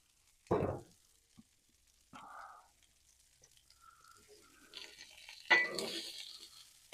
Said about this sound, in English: So on a Blackstone, you're pretty much shallow frying everything.